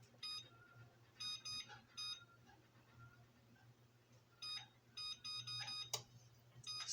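A kitchen timer is set for 15 minutes while a dinner slowly bakes, giving short clusters of faint electronic beeps in quick bursts with pauses between them, over a low steady hum.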